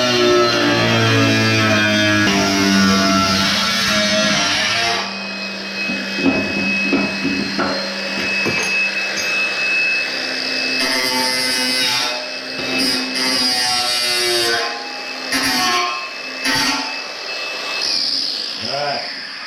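A reinforced cutting wheel bites into aluminium while building a sheep water trough, a loud sustained high whine with shifting pitch as the cut progresses, close and continuous with brief dips.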